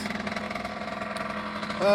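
A de-restricted Aprilia RS50 two-stroke motorcycle engine, running on super unleaded, idles close by with a rapid, pulsing putter, then briefly rises in pitch near the end.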